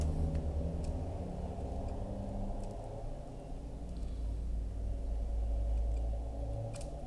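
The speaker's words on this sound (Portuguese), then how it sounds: "Não sei o que esse carro tá passando aqui bem agora." A car passing in the background on a street, a faint, low engine rumble that swells slightly and fades, heard alone and far off.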